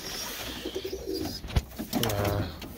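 Birmingham Roller pigeons coo in soft, throaty, rolling calls that build toward the end, heard close up with no speech.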